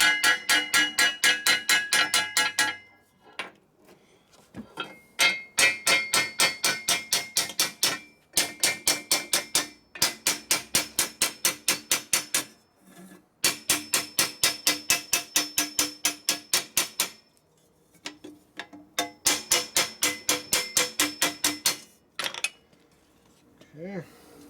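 A hammer pounds a part from a Harley FL/FLH panhead in rapid bursts of loud, ringing metal strikes, pausing briefly between volleys.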